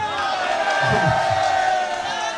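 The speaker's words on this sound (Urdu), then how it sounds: "ابھی نعرے کوئی نہیں، پلیز کوئی نعرے نہیں" A large crowd at a political rally for a minority convention roars and chants continuously, a dense, loud wall of many voices with shouted calls rising over it.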